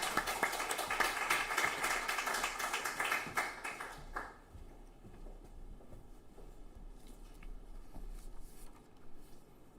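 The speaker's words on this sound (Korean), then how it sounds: "우리 따뜻한 박수로 모시겠습니다" Warm applause from a church congregation at a Wednesday worship service welcomes the preacher, a dense burst of clapping that fades out after about four seconds, leaving a quiet room.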